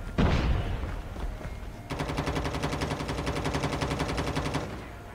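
Gunfire in Call of Duty Mobile on the Alcatraz map: a few loud single shots, then a long, steady rapid-fire automatic burst of even, close cracks lasting several seconds.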